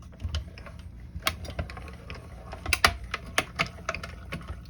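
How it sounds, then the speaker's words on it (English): A die cutting machine pressing through card, producing a rapid run of close, crisp mechanical clicks and ratcheting ticks in an uneven rhythm. "And die cut that real quick."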